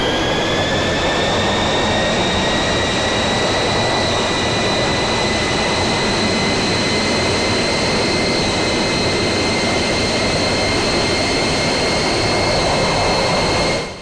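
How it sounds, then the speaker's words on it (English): An MB-339 jet engine spools up during start-up in the DCS flight simulator, a steady loud roar with rising whining tones that holds near and constant until it cuts off at the end. "You must take the engine from stop into idle within around 20 seconds"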